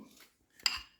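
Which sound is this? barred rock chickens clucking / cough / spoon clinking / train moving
spoon clinking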